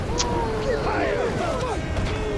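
Ship cannons firing in the pirate video game Raven's Cry, a series of booming shots and crashes over a busy battle din, with no talk.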